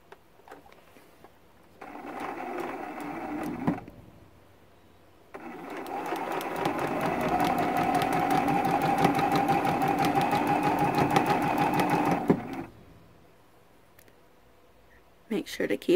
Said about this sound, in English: we're just going to do some chain piecing with a 1/4 inch seam allowance